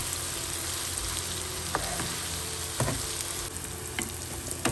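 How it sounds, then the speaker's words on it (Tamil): Onions and curry leaves sizzle and crackle in hot oil over a high flame, a steady close frying hiss broken by a few sharp spatula scrapes and taps against the pan. "இது நல்ல ஒரு ஹை ஃப்ளேமில் பொரியணும்"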